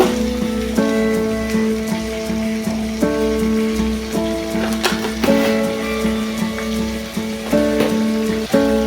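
Ginger-garlic paste crackles in a pan while chicken curry is being cooked, a steady rain-like sizzle that runs throughout with musical tones underneath.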